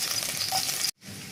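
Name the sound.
garlic frying in hot oil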